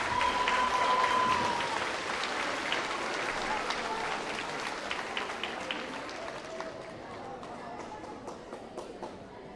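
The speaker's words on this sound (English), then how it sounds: "A huge round of applause to these students for working so hard." Sustained applause from an audience at a junior high academic awards assembly, honoring students with dense clapping that gradually thins and fades toward the end.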